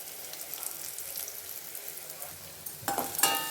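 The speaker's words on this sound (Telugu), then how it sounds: "చూడండి ఆనియన్స్ని వేగి వేపుకుందాము" Onions frying in a pan with a dried red chilli, curry leaves and a pinch of asafoetida, giving a steady close sizzle with light stirring that grows louder and clattery in the last second.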